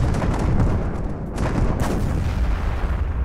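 Cluster bombs exploding on a stronghold target in the video game From the Depths, heard as a dense, loud rumble of overlapping blasts that continues throughout with no talking.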